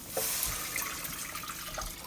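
Water runs into a cooking pot in a home kitchen as three cups go in for a chili lentil soup. The splashy stream is close, steady and brief.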